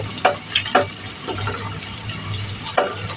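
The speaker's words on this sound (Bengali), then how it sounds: "মশলাগুলো সুন্দর করে একটু ভেজে নেব" Bay leaf, cardamom and cinnamon frying in a pan for vegetable khichuri, a steady low sizzle broken by a few sharp crackles and scrapes of stirring, close and alone.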